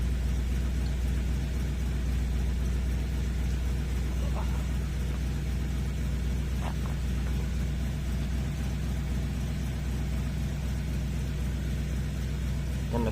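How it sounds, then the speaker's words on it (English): A Chrysler car engine idles steadily in the background throughout, a low continuous hum with faint metallic clinks from nearby work on a 2007 Honda Accord V6. "the car you hear running in the background is my dad's"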